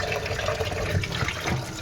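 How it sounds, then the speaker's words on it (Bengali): Six potatoes being washed by hand in water, a continuous close sloshing and splashing of water throughout, with no talk. "আলুগুলো সব জলে ভালো করে ধুয়ে নেবো, যাতে আলুর যে নোংরাটা সেটা যেন না থাকে।"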